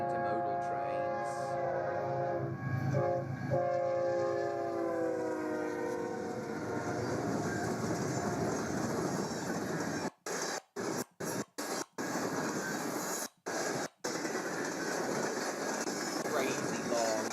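A very long intermodal freight train rolls past on American railroad track, a steady loud rumble and clatter that continues for most of the stretch. Near the end it breaks into several brief gaps.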